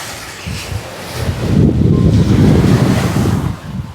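Sea waves wash onto the shore while wind buffets the microphone, the surf swelling and rumbling steadily through the middle and easing toward the end, with no voices present.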